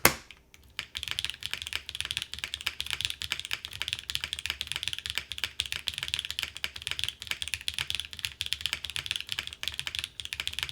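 Fast, continuous typing on a KV1-65 mechanical keyboard, with dense, crisp keystrokes clacking up close after a brief pause at the start and no voices.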